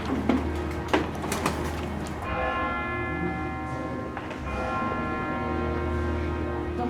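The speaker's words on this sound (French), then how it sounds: "Donc, la cloche de Saint-Folquin," The small church bell of Saint-Folquin rings with a bright sustained tone, struck a few times early on, then humming and decaying steadily, with some handling clatter nearby.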